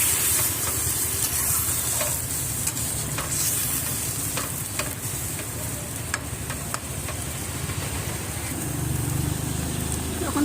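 Fish curry simmers in a pan with added water, giving a steady bubbling sizzle and hiss that runs unbroken and close, with a few scraping stirs along the way.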